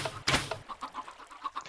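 Chickens clucking in the Minecraft video game, a few short, distinct clucks repeating at a loose rhythm after a brief burst of louder noise at the start, fairly quiet with no talking.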